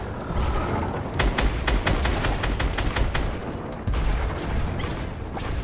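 Rapid video game gunfire rattles in dense bursts, loud and close, with sharp repeated shots and booms running almost continuously.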